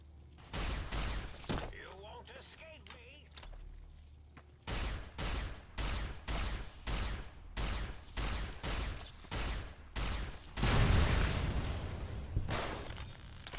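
Gunfire in Fallout: New Vegas: a rapid string of loud, evenly spaced shots fires in steady rhythm, with scattered cracks and a long rumbling burst near the end.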